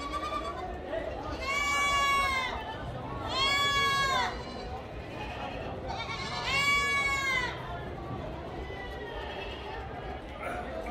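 Young Totapuri goats bleating at a busy goat market, several drawn-out cries in bursts over a steady murmur of crowd chatter and background noise.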